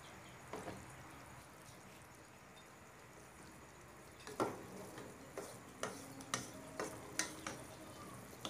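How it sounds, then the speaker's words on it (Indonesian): Capcay vegetables stir-fried in a pan with oyster sauce and a little water: a quiet stretch, then soft intermittent scrapes and ticking taps of stirring from midway on, faint and close, with no talking. "Kita tumis hingga mendidih."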